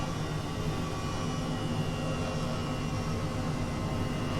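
Twin turbine engines of an H135 helicopter spinning up together in Flight Simulator 2020, a steady, dense whine and rushing roar that holds evenly loud throughout with no talk.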